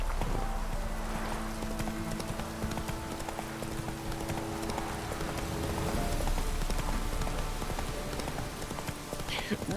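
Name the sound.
horse Roach galloping in a video game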